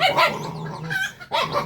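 A dog barks twice at close range, one burst at the start and another after a brief gap, with a tonal, slightly yelping quality.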